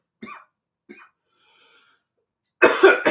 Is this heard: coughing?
yes